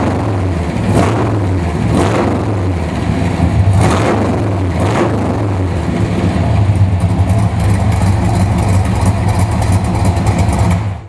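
A 1967 Chevrolet Corvette Stingray roadster engine idles loudly and close by, with a deep, steady rumble and a few brief revs rising and falling over about eleven seconds, no speech.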